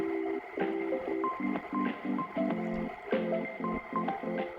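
Cold water is worked into scallion pancake dough by hand, giving a run of close, rhythmic wet squishing and sticky slapping pulses with faint dripping between them.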